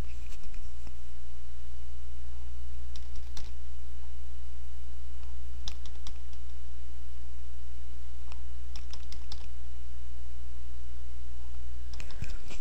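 Computer mouse clicks while working in After Effects, a few sharp, sparse clicks scattered in small clusters over a steady low hum, close and fairly quiet, with no speech.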